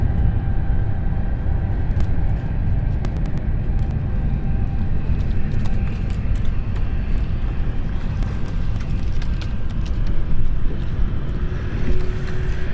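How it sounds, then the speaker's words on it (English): A jet aircraft taking off at London City Airport, a steady broadband roar with low rumble and wind buffeting on the microphone, loud and sustained throughout with no talking. "Beautiful takeoff that was."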